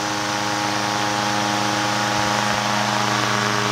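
A 1931 Gilbert 16-inch chrome electric desk fan runs on high speed, giving a steady, loud motor hum and whirring blade rush with stable tones throughout, close and alone.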